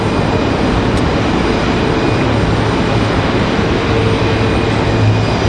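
An Envoy regional jet roars steadily away on its takeoff run at Raleigh-Durham airport, a loud, unbroken engine rumble filling the whole stretch.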